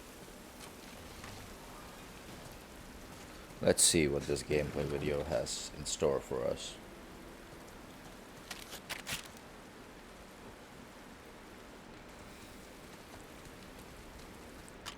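Steady rain falls at dawn in The Last of Us Part II, a constant soft hiss that lasts throughout. Someone talks briefly over it near the middle.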